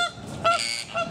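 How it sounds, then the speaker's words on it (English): Ducks honk and call in a noisy flock at a zoo, several overlapping nasal cries close by with no talking. "Look at the ducks."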